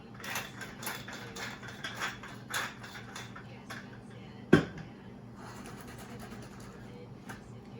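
Salt and pepper grinders ratchet in short clicking bursts over turkey cutlets in an olive-oiled pan, with one sharp knock midway, close and fairly quiet under a low background hum.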